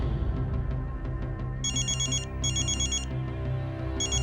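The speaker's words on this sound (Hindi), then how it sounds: "12 बजे अंतरा के फोन पर रुद्र का कॉल आया।" A mobile phone rings with an incoming call, its bright electronic ringtone sounding in repeated bursts over a steady low background.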